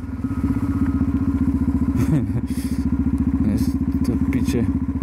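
Steady fast-pulsing engine drone of a motorcycle ridden over a rough, rutted road, close and loud throughout, with occasional thumps and rattles and a rider talking underneath.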